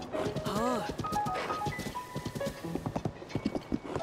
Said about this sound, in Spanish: El caballito gigante is back.